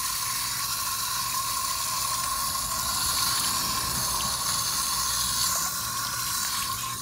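Water rinsing spilled coolant off a 2001 Triumph Sprint RS 955i motorcycle during a radiator flush, a steady close hiss of spraying, splashing water running without pause, no talking.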